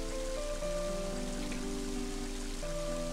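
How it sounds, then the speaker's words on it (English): Steady rain pours in the video game Mother 3, a continuous even hiss with a soft musical tone underneath, no talk. "And now it's starting to rain."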